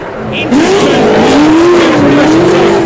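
Dirt track race cars on the final lap of a pro dirt shootout roar past loudly, engine pitch rising and wavering as they power through the turns, with a commentator talking over the noise.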